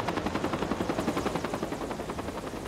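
A firefighting helicopter working a wildfire, its rotor beating in a fast, steady chop that sounds moderately close and carries on alone throughout.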